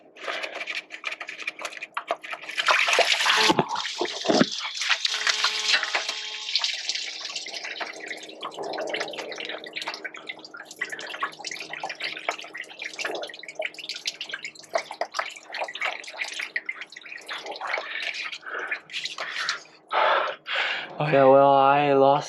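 Coolant gushes and splashes out of the block heater plug hole on a 2001 Monaco RV engine, a loud rushing pour close by that later turns to irregular splashes and drips, with gasps and brief talk.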